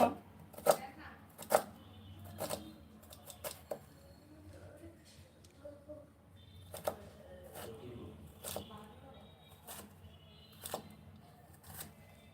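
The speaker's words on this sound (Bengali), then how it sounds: "কত সুন্দর করে আলুগুলো বানাচ্ছি" A knife cuts potatoes in a home kitchen, making sharp, irregular chopping taps on a board. They sound close but quiet, with soft background voices at times.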